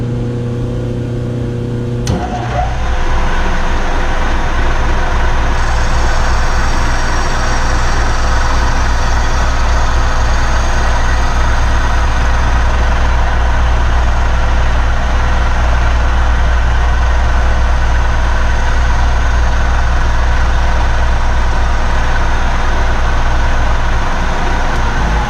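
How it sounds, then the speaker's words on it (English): A milling machine on a phase converter starts with a clunk and settles into a loud, steady mechanical drone with a constant low hum, cutting an aluminium SR20DET valve cover continuously throughout. "I'm gonna turn on the phase converter and start machining this."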